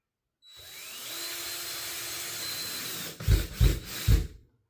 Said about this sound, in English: Take a screw, screw it into the wall, see if you hit something.